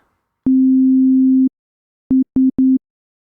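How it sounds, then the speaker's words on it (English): A pure steady tone holds for about a second, then after a pause it sounds three short times in quick succession, clean and loud. "So let's look at clipping using a sine waveform."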